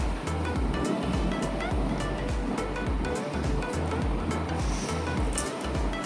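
Water pours steadily into a fish tank being refilled after sanitizing, a continuous rushing, splashing wash with churning low gurgles, loud and close throughout.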